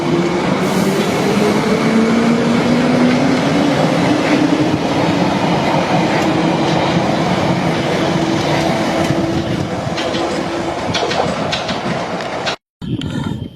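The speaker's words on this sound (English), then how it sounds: "departing for Arnos Grove is the Piccadilly line service from Heathrow Terminal 4" A London Underground Piccadilly line train departs Northfields station at night, a loud, close rumble of wheels on rails with a rising motor whine and clattering over the track, continuous until a sudden cut near the end.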